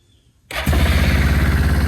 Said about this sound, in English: Let's pull the choke. Let's hear this thing fire.